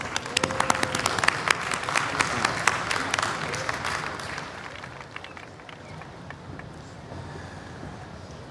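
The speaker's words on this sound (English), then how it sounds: "Let's give him a big round of applause." An audience at a large cultural festival bursts into applause for a former president of Tunisia, dense clapping that gradually thins out over several seconds.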